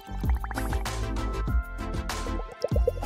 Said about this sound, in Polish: Zanurzę końcówkę słomki w rozpuszczone cukierki. Właśnie tak. I puszczamy bąbelki.